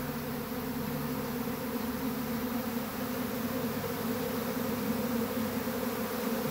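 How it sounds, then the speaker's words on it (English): A honeybee swarm drones steadily as a dense, continuous buzz that stays loud and even throughout, with no voices over it. "Another Sunday swarm."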